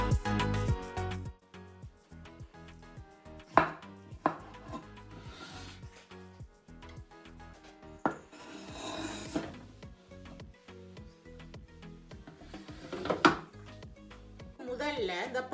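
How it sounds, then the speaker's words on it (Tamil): A knife chops fresh strawberries into small pieces, irregular thuds and taps on a cutting board at close range, with talking in between. "இப்போ இந்த பழத்தை சிறு சிறு துண்டுகளாக வெட்டி எடுத்துக்கொள்ளுவோம்."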